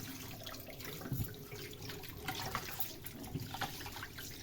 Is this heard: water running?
yes